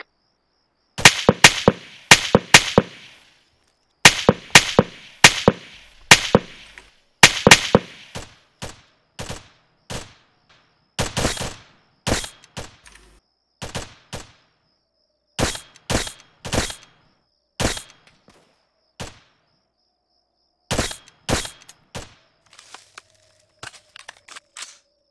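Video game gunfire during an LKR ammunition test: repeated sharp bursts and single shots crack out in clusters with short pauses between them, loud and close, with no talking.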